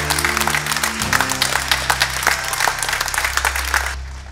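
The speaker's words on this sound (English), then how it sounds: "How about an applause for them?" A church audience at a Christmas cantata applauds the choir and children, with steady, full clapping throughout that thins slightly near the end.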